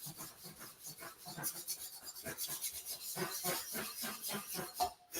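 Hand sanding of a metal tank with 180-grit sandpaper, a dry raspy scratching in quick repeated back-and-forth strokes, steady and close with no talking.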